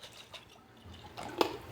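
Water is poured into a pasta and meatball casserole dish, a short close splash and trickle that builds into a brief burst near the end, with no talking.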